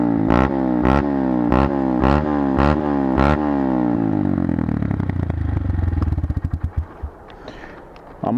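A Honda MSX Grom motorcycle engine revs hard several times in a row, loud and close, then drops back to a sputtering, popping idle.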